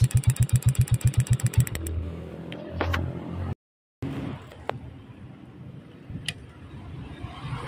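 A motorcycle engine fitted with an Apido ignition coil that has seen seven months of use cranks in rapid rhythmic pulses, catches and settles into a steady idle, with a brief dropout midway and a few sharp clicks and rattles.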